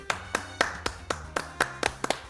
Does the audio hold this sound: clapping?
yes